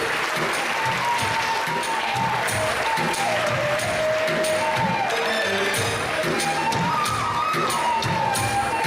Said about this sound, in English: Audience, come on, we can make louder claps here.